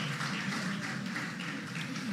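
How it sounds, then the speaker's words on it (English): An audience at a high school debate quarterfinal between KNUST SHS and Prempeh College applauds Dr. Peter Arthur, a dense, even wash of many hands clapping at a moderate, slightly distant level throughout. "Ladies and gentlemen, one more time, a round of applause for Dr."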